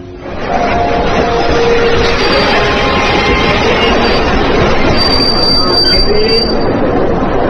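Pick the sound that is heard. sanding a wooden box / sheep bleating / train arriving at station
train arriving at station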